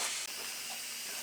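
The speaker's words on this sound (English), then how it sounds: "My steam's releasing" A steady, loud rush of hissing steam venting continuously from an Instant Pot pressure cooker, with a brief dip near the start, no voices.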